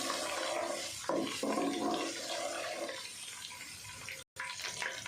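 Spices sizzling in hot oil in a pan for an egg malai masala curry, a steady broadband hiss and crackle running throughout with a brief break near the end.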